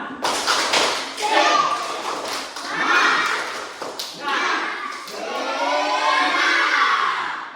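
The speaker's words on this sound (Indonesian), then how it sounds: "mari kita berdiri untuk memberikan tepuk semangat" Schoolchildren in an Indonesian Catholic religion lesson stand and perform the 'tepuk semangat' cheer, a loud, close, rhythmic clapping routine mixed with energetic shouted chanting from many young voices throughout.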